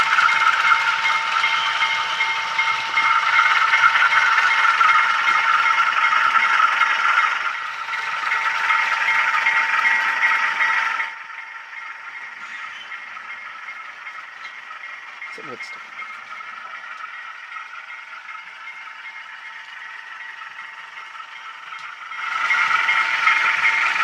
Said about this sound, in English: how can you not like that lovely 8-cylinder clatter this engine has?